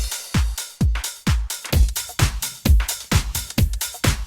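Two dance tracks layered in sync at 130 BPM, steady kick drums thumping roughly every half second with bright hi-hat and synth wash above, loud and continuous with no talking.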